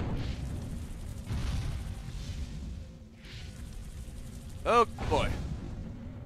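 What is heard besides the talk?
weapon fire and explosions in Destroy All Humans video game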